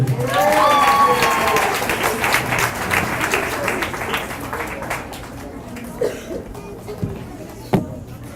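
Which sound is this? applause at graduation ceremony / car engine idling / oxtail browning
applause at graduation ceremony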